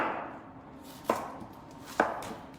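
Two separate knife chops on a cutting board in a kitchen, onion being cut for pasta, each a crisp close thud about a second apart over quiet room noise.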